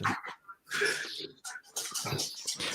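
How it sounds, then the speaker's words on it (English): A dog barks in the background of a live online football podcast, giving several short, sharp yelps and whimpery barks in quick irregular bursts with brief gaps, fairly faint and alone without talk. "Yeah, I think it might be the dog."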